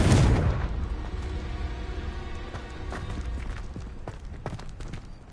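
A Confringo fire spell bursts in Hogwarts Legacy with a loud, booming explosion at the start, then fades into a crackling, rumbling tail scattered with smaller impacts.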